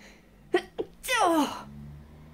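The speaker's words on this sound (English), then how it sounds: "Bear with me, I'm gonna sneeze." A single loud, close sneeze from a patient recovering in hospital after surgery bursts out after two short sharp inhales, followed by a quiet moment.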